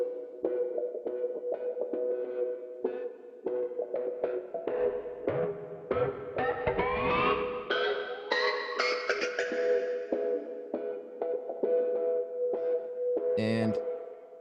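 Multipass plugin in Logic applying a sweeping filter effect to an indie pop mix, the tones gliding upward through the middle of a dense, steady track, ending in a brief bright burst.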